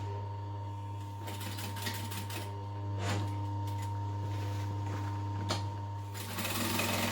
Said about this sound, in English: I'm just going to stitch all the way around that rectangle